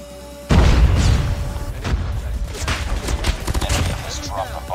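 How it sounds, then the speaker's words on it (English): A flashbang grenade goes off in a Call of Duty Mobile match, a loud sudden boom followed by continuous gunfire and battle noise over the rest of the stretch. "Flashbang!"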